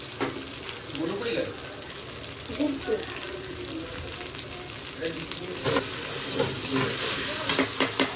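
Chopped tomatoes hit hot chicken gravy in a pan, a steady frying sizzle with stirring that builds louder toward the end, with a voice speaking over it at times.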